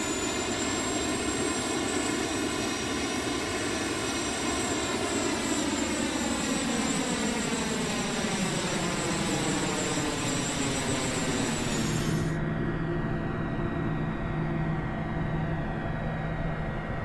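A Cessna Mustang jet in a flight simulator game whines steadily, its pitch slowly sliding down as the engines spool back, before settling into a lower, even hum, loud and continuous with no talk.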